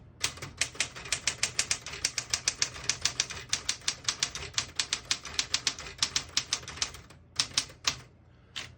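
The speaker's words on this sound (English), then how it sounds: "I'll type a sentence on the next line." Keys strike sharply on a 1966 Smith-Corona Classic 12 portable typewriter, a fast, close run of crisp clacks typing out a line, with a brief pause and a few final strokes near the end.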